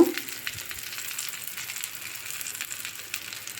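Pointed gourd and egg fry gently in a pan over low heat, giving a soft, steady, even sizzle throughout with no voices.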